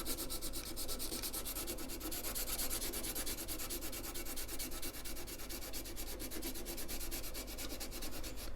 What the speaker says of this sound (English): a little bit of sandpaper, I'm going to scuff down the area, get rid of the old glue